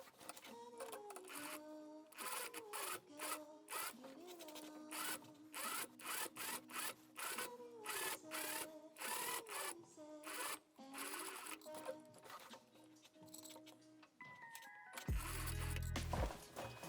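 Sewing machine stitching around button tape on an 80s-inspired summer dress, running in close, loud mechanical bursts of rapid needle clatter separated by short pauses, with speech over parts of it and a different loud noise near the end.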